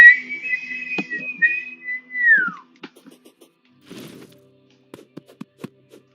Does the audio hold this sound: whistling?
yes